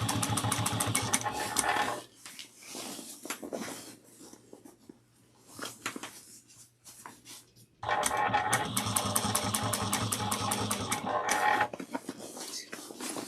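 A sewing machine top-stitches a bag in rapid, rhythmic bursts of needle strokes, close and loud, with a quieter stretch of slow stitching and fabric handling in the middle.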